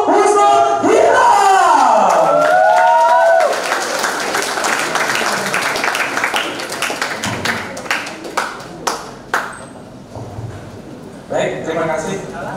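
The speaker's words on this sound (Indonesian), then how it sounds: "Mari kita sambut dengan tepuk tangan yang luar biasa kepada narasumber kita pada pagi hari ini" School audience applause welcoming a speaker at an event: a voice speaks over a crowd, then scattered claps and taps follow, thinning into a few separate hand claps.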